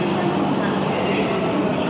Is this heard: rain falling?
no